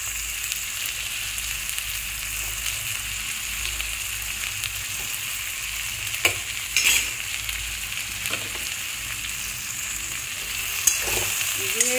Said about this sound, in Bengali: দিয়ে এবার সব মশলার সাথে কষিয়ে নিতে হবে